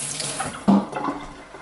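Water runs from a kitchen tap for hand washing, a short close splashing stream with a brief louder gush partway through.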